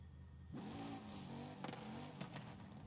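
A Chevy Nova engine in Forza Horizon 5 starts up and idles with a steady mid-pitched rumble, giving a couple of short revs near the end.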